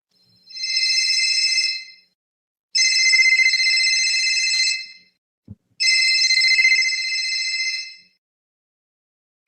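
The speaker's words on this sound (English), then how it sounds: "I'm trying to get her on the phone right quick." Telephone ringback tones on an outgoing call, three long electronic rings in a steady pattern with pauses, loud and clear with a faint click between the last two rings and no talking.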